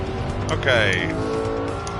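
A race car brakes into a corner in Gran Turismo 7, its engine note dropping in a steady downward sweep with a brief whine, under continuous in-game audio and someone talking.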